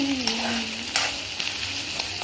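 Onions sautéing in a pan for poori potato masala, a steady close sizzle with a few brief scrapes of stirring.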